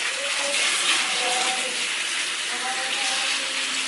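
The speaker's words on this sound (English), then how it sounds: "I'm going to wash it now with hot water." Hot water pours steadily from a tap over mackerel being washed in a sink, a loud continuous hiss and splash that stays even the whole time.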